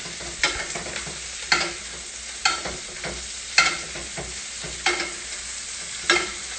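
Fish frying in a pan with thyme butter, a steady close sizzle broken every second or so by louder spoon-stirring or basting scrapes, no voices.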